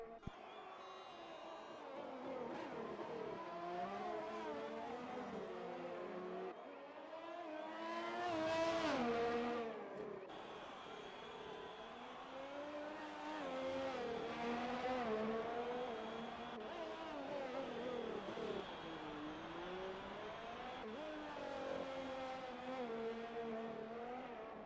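Formula race cars circle the Singapore street circuit in an online racing league video game, engines droning and revving continuously, with one loud close car sweeping past near the middle.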